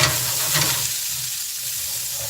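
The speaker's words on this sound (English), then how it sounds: "Nice sizzle. Got to have that sizzle." Peppers sizzle and fry in a hot pan for a jambalaya, a steady close crackling hiss with a low rumble of the burner beneath, no voices.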